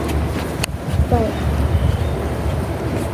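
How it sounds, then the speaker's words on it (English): Strong gusts of wind blow outdoors across a yard with a loose trampoline and blowing trash, a steady close rushing roar buffeting the microphone throughout. "It's pretty windy outside."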